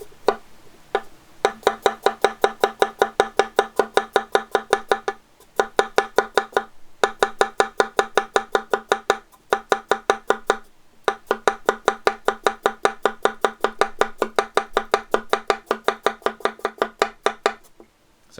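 A chef's knife quickly chopping a vegetable into thin rings for stir fry, with steady rapid blade taps on a cutting board in several long bursts separated by short pauses, close and clear with no talking.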